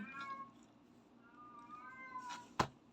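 A cat meows a few times, drawn-out and fairly quiet, followed by a sharp brief click or tap near the end.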